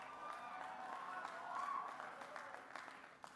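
Applause from a crowd at a political speech, a fairly faint, steady patter of clapping with a few sharper claps near the end, heard at a distance.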